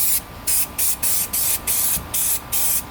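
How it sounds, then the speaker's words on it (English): Spray adhesive hisses from an aerosol can onto a Subaru Crosstrek door card in quick short bursts, about eight in a row at an even rhythm, close and fairly loud with no talking. "So I'm gonna spray the actual door card first."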